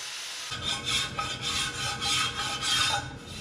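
A wire wheel and a hand file cleaning up the face of a welded steel plate, giving a close, continuous scraping rasp in repeated strokes after a short quiet start.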